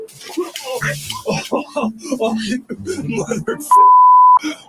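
A single steady electronic beep sounds near the end, sharp and clear, right after a stretch of conversation between people.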